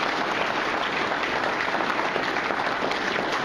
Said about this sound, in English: So please, another round of applause for the people